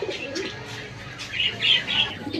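Bondi net pigeons in a loft coo softly, several low throaty calls close by with a few brighter chirps and shuffling among them.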